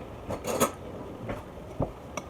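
Oats are spooned into a bowl in a few separate scoops, with a spoon clinking and scraping against the dish in short, close, moderately faint bursts.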